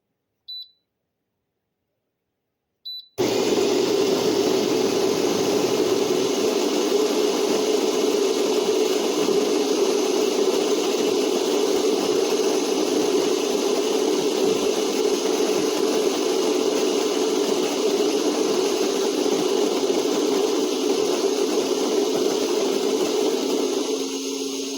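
An electric SHARDOR anti-static conical burr coffee grinder grinds a full load of coffee beans, a loud steady motor whir that runs without pause after a couple of short beeps and a brief silence.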